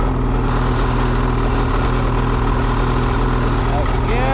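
A Ski-Doo Summit Expert snowmobile with a 146 track idles steadily while warming up, a loud, close, unbroken engine drone.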